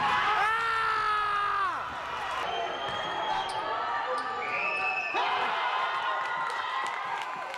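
Highlights from a basketball game: a squeaking, bouncing ball and a loud crowd cheering and screaming throughout, with whistling shrieks from the stands.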